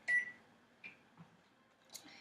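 An oven timer gives several short, faint electronic beeps, spaced apart with quiet gaps between them, as its timer button is pressed in a home kitchen.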